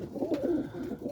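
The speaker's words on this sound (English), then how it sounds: "that's a nice bird right there" An outdoor bird, likely a pigeon or dove, gives a soft, steady cooing call, close and fairly quiet, with no voices.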